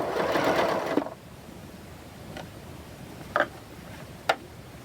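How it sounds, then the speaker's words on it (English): A sewing machine stitches quilt rows together in a quick, even burst of close needle chatter for about a second, followed by quiet and a few soft clicks. "Sewing those rows together."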